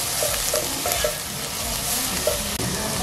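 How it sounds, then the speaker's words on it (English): Onions frying in oil in a pan, a dense steady sizzle close up with a few light stirring scrapes and no talking. "Weka tuka mafuta na uweke vitungu zako."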